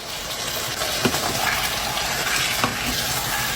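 Chicken seasoned with salt and pepper fries in a pan for chicken ginataan with chayote, a constant close sizzle with a couple of stirring scrapes, no talking.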